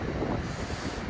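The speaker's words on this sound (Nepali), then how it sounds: "विन्डी छ हावा चलेको छ" Wind blowing at a seaside viewpoint in Hastings, a steady rough rumble of gusts buffeting the microphone, loud and close, with no voices.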